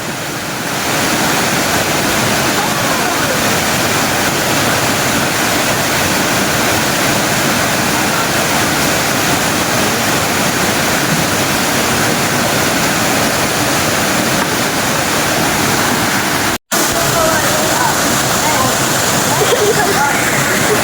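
Steady, loud roar of a mountain waterfall where people bathed after a climb, a dense wash of falling water that holds constant throughout with only a momentary dropout near the end.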